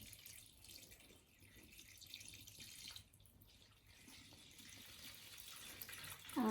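Water pouring into a houseplant tray, a thin trickling, splashing stream that runs steadily and grows a little fuller toward the end, quiet and close, with no speech.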